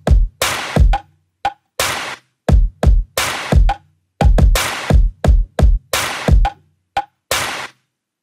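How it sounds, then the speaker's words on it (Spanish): A programmed drum pattern loops with thumping kicks, crisp snare cracks and short percussive ticks in a steady groove, punchy and up close with no voices. "Toda la batería suena así."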